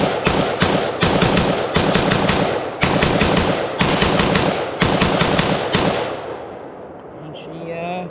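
A Taiwanese T65K2 rifle fires on a range in rapid bursts of loud, sharp reports, several fast strings separated by brief pauses, before the shooting stops and voices follow.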